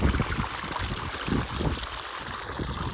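Irrigation water flows through a farm channel, a steady close gurgling and rushing stream with no voices.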